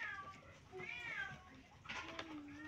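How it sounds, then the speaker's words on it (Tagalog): A cat gives a few soft, wavering meows in a quiet indoor setting, with low background noise and faint voices nearby. "Narinig niya kasi yung pusa eh."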